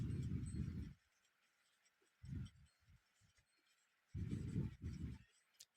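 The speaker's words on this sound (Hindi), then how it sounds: "चलिए क्वेश्चन लिख देते हैं यहाँ पर।" A marker or pen writes out a math question on a board in short strokes and bursts, with quiet pauses between groups of marks.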